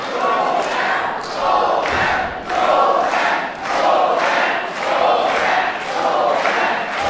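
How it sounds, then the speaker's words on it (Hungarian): A wrestling crowd at an indoor professional match chants and cheers in loud rhythmic waves, roaring repeatedly at a steady pulse throughout. "Közönség hallatja a hangját"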